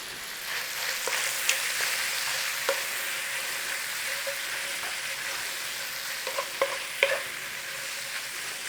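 Smoky bacon fries in a pan with a steady sizzle and occasional scrapes as it is stirred, loud and close with no voices.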